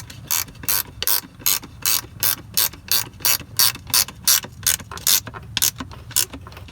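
A wrench ratchets as a bolt is tightened on a Mercedes 300D parts car during driveshaft removal, giving loud, close bursts of rapid clicking in a steady, repeated rhythm with brief pauses between strokes.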